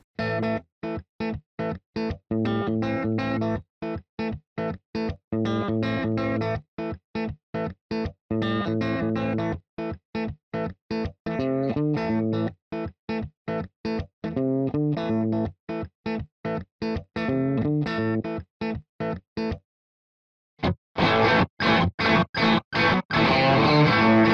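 A heavily distorted electric guitar played through a Marshall amplifier chugs out rapid, choppy rock chords in short stop-start bursts, loud and upfront, with a brief silence near the end before a brighter burst.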